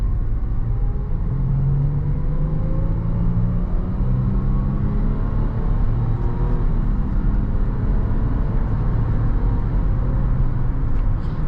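A 2018 Land Rover Range Rover cruises at highway speed, giving a steady, close low road rumble and tyre roar with a soft engine hum that holds evenly throughout, with no talk.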